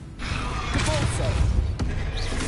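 A Depulso force-push spell is cast in the game Hogwarts Legacy, giving a brief forceful whoosh with a thudding impact over a steady background while a voice speaks.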